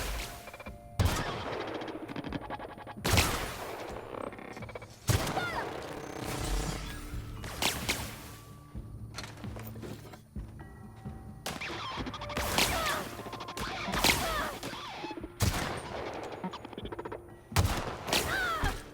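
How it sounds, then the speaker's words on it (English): Repeated gunfire crackles through a shootout in The Outer Worlds, with sharp bursts of shots arriving in irregular clusters, loud and close, alongside whooshing effects. "Who's still shooting?"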